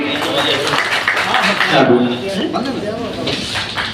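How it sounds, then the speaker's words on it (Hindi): An audience at a meeting claps continuously to welcome guests, a thick wash of applause mixed with voices talking over it. "जोरदार तालियों स्वागत करें आप सभी"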